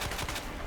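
A quick burst of handgun fire from the Matilda pistol in Resident Evil 2, several rapid shots packed into under a second, loud and close.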